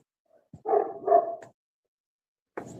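Dog at a rescue shelter giving a couple of short, close barks and yips in quick succession, then a brief pause and another bark starting, with no talk.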